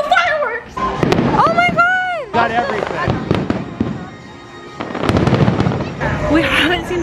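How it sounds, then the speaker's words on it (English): Fireworks pop and crackle outside at Disneyland, heard in bursts and rumbles beneath excited chatter and voices of people nearby. "We just heard fireworks outside"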